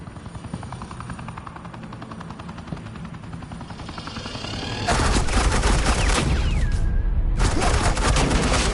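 Suppressing gunfire in Batman: The Enemy Within, preceded by a helicopter's steady rotor chop, then a sudden loud, dense barrage of automatic fire that cuts out briefly before resuming, close and harsh, with no speech.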